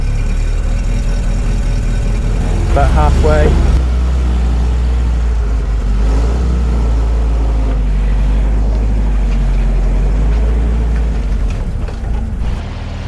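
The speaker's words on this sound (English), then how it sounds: "Let's see if we can get it started." 1962 Hotchkiss M201 jeep petrol engine settles into a steady low idle after starting, a loud close rumble with a brief rev near the start, while someone speaks briefly.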